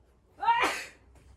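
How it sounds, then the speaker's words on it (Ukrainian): A woman sneezes once, close and loud, with a short sharp intake of breath before the burst and a quiet tail afterward. "як ви зрозуміли, я трішки чихнула"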